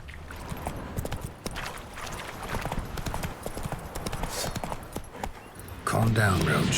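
Roach, a horse in The Witcher 3, gallops with a quick, steady clip-clop of hooves, fairly close and continuous, mixed with voices talking and a louder burst of game noise near the end.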